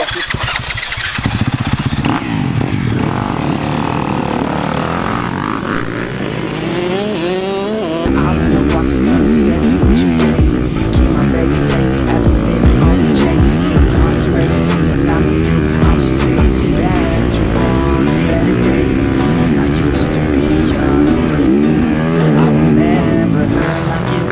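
Motocross bikes ride a dirt track with loud, close two-stroke engine revving and rising and falling throttle blips, continuous throughout, with a sharper burst of engine noise after the first few seconds.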